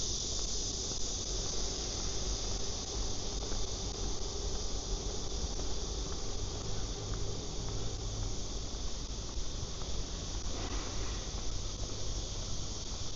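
Dense, steady high-pitched buzzing from cicadas in trees in Seoul, South Korea, on a summer night fills the air without a break, loud and continuous throughout.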